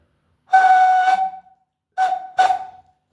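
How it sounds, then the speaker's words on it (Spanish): A reconstructed Comechingón whistle, made by a member of the Comechingón community, gives one long, clear, piercing tone and then two short blasts, loud and close with nothing else sounding. "Este es un silbato reconstruido por Mauri de la comunidad Comechingón Ticas."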